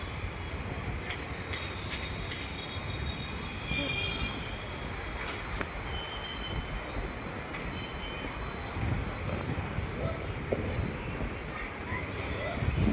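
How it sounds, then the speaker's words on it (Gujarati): An airplane passing overhead during a severe storm in Ahmedabad, a steady broad engine rumble that holds throughout, mid-distance and moderately loud, with faint voices in the background. "વિમાન આવે વિમાન."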